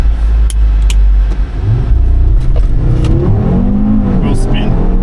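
A tuned stage 1 Audi RS3 with TCU tune accelerates hard on a hot day, a loud, close engine drone rising steadily in pitch, with a person talking over it.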